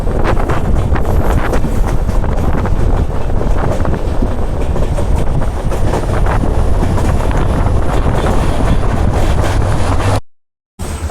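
A long-distance express train from Kolkata to Mizoram running through a tunnel, giving a steady, loud, close rumble of wheels and wind noise that fills the whole stretch, with a brief dropout near the end and no talk.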